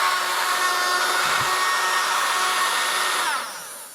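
A small USB keyboard vacuum cleaner, model FD-368, runs with a steady high-pitched motor whine and airy rush close up, then winds down toward the end.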